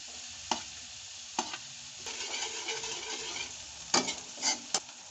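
Onions frying in melted butter in a pan, a quiet sizzle broken by several distinct scrapes and clanks of stirring, fairly close and without talk.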